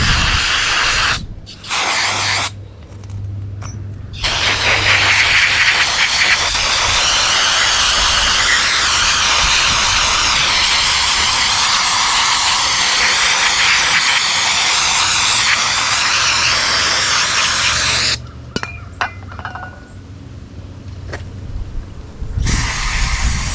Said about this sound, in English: let's spray her down a little bit.